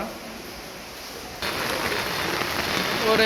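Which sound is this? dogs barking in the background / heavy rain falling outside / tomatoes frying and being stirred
heavy rain falling outside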